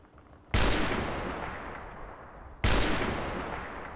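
Two heavy .50 cal machine gun bursts in ARMA 3, each a sudden loud report followed by a long rolling echo, spaced about two seconds apart and heard alone without talk.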